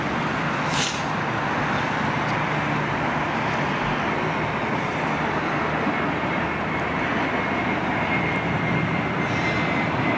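Qatar Airways jet departing Heathrow, a steady broad jet roar holding constant and fairly loud throughout, with no talk over it.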